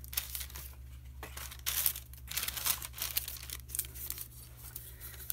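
Parchment paper handled and crinkled for a craft trinket box lid, giving several bursts of crisp rustling and tearing-like crackle over about five seconds, fairly close, with a steady low hum beneath and no talking.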